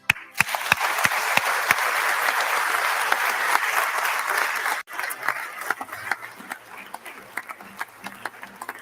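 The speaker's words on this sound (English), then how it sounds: "They deserve a warm round of applause." Warm crowd applause for presidential candidates at the Bomas of Kenya tallying centre in Kenya, dense and sustained, opening with a few sharp near claps before briefly dipping and continuing more sparsely.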